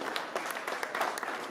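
An audience at the Bloody Week-End 2019 horror film festival applauds the jury members, a short burst of dense, even hand clapping from a room full of people, with a voice faintly present underneath.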